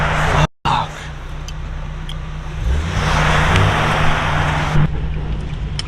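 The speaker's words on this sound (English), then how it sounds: "We're driving through the city" Car driving through city traffic in the Bronx, a steady low engine and road hum from inside the vehicle, with a brief dropout and a swell of passing traffic noise midway.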